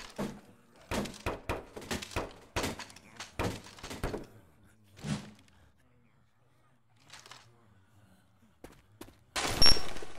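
Bursts of gunfire in Left 4 Dead 2 on The Parish map, with a quick cluster of sharp shots, a few scattered single shots, and a louder burst at the end.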